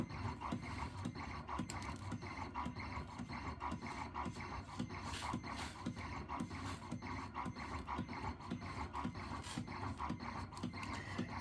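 A rhinestone template cutting machine runs steadily, giving a continuous mechanical rasping and ratcheting whir with rapid ticking pulses, low and even throughout with no voices.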